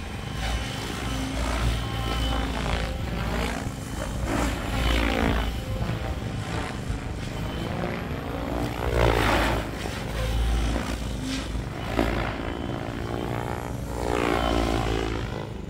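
A Nimbus 550 aircraft engine holds 1900 RPM in a loud, steady droning roar with a throbbing propeller beat that runs without a break through the whole stretch.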